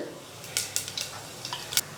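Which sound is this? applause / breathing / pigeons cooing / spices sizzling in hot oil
spices sizzling in hot oil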